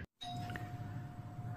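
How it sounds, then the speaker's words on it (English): A front doorbell rings indoors with a steady held chime tone over low background hum, fairly close and with no voices. "so the doorbell's going"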